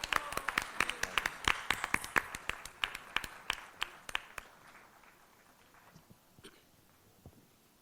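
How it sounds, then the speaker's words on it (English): An audience applauds four winners at a spiritual gathering, with dense overlapping claps at first that thin out into scattered, fading claps until only a few remain. "let's give a huge round of applause for the 4 winners."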